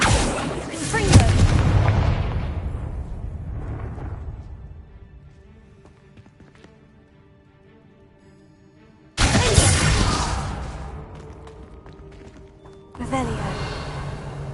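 Confringo blasting spell cast in Hogwarts Legacy on PS5: a loud explosive burst with a crackling tail that fades over several seconds, then two more sharp, bright blasts later, with game ambience between them.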